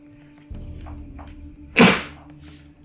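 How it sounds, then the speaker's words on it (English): A single sharp sneeze bursts out near the end, loud and close, after a quiet stretch of low background hum. "I'm about to sneeze."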